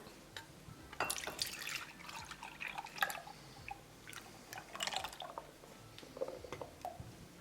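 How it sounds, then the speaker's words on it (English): Water drips and splashes in irregular bursts as canned chickpeas are drained, the liquid trickling into a sink, close by with no talking. "First we're going to drain the water."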